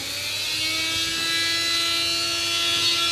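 A small electric grinder runs steadily for phone eMMC chip repair, a continuous close high-pitched whine with a constant tone throughout.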